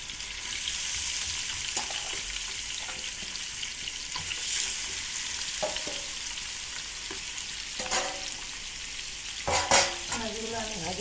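Fish frying in mustard oil in a frying pan, giving a steady close sizzle with occasional scrapes and clatters as the pieces are stirred and turned.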